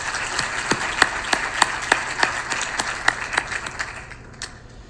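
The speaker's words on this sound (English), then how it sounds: "let's please give them a round of applause for establishing this" A conference audience at an agtech innovation summit applauds: steady, loud clapping carried by many hands with distinct sharp claps standing out, thinning and fading toward the end with no talk over it.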